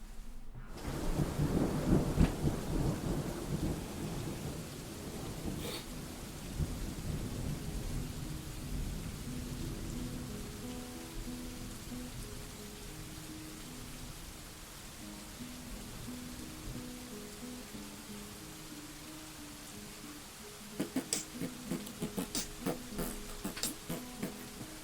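Steady rain-like hiss with low rumbling, not actual rain, fading slightly over time, then a few sharp crackling ticks near the end. No voices.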